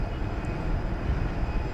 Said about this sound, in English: There's a passel of planes waiting to take off over on the east side.